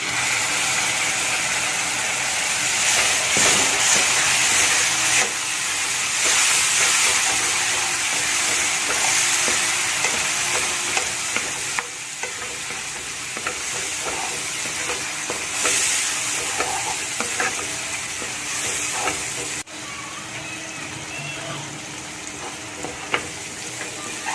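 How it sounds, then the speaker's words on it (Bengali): Tomato juice poured into a sizzling chickpea gravy and stirred in a pan, a loud steady frying hiss with scattered scraping clicks of the spoon that settle to a slightly quieter bubbling sizzle, with no talking. "এখানে আমি টমেটোর যে জুসটা বানিয়ে রেখেছিলাম সেটা আমি এর মধ্যে গ্রেভির মধ্যে দিয়ে দিচ্ছি।"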